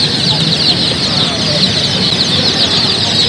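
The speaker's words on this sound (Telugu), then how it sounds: "ఇక్కడ చూసుకున్నట్లయితే పిల్లలు ముద్దుగా ఇళ్లలో పెంచుకున్నటువంటి కలర్ కోడి పిల్లలు అయితే వచ్చినాయండి." A crowd of chickens and small coloured chicks cluck and cheep continuously at a Sunday poultry market in Nellore, a dense close chorus of peeping with no pause.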